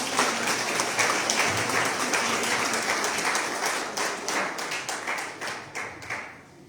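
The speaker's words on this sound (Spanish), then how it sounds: "les pido un fuerte aplauso para él" An audience at a municipal event in Morelos applauds a guest, loud dense clapping that thins into scattered, individually distinct claps as it dies down.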